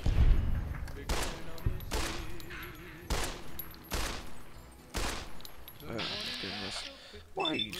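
Gunfire in the video game Fallout: New Vegas: several sharp, loud shots spaced roughly a second apart, each with a short ringing tail, mixed with game sound effects, while someone talks over the action.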